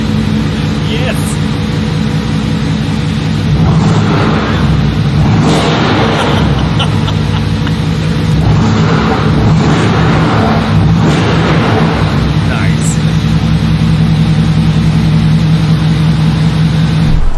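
A Mercedes-AMG GT4 race car drives on a track with a steady engine drone and several surges of revving. A voice speaks through much of it.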